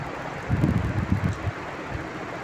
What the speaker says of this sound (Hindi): आवाज का इशू होगा क्योंकि पंखा चल रहा है